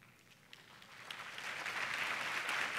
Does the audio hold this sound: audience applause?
yes